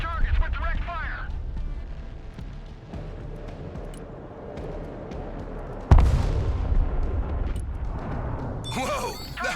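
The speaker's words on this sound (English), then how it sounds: "Engaging targets with direct fire." Abrams tank cannon fire and explosions in the modern warfare strategy game Broken Arrow, a dense rumbling battle din with a sharp heavy blast midway, under a commander's voice talking over radio.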